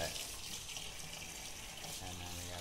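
A faucet runs steadily into a sink as cyanotype prints are rinsed under the tap, giving a continuous close hiss and splash with a brief voice near the end.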